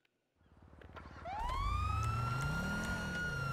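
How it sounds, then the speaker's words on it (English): A distinctive police car siren in GTA 5 rises in a swooping, fairly high-pitched wail after a low engine rumble, loud and close, sounding alone without talk. "It has a unique siren."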